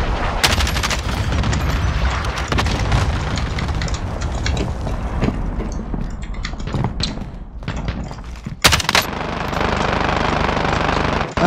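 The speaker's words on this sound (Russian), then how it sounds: "Начинаю обстрел кассетными минами." A cluster mine barrage in Call of Duty Warzone pounds away with dense, overlapping explosions and rattling blasts that continue throughout, loud and heavy, with a couple of sharper bursts near the end.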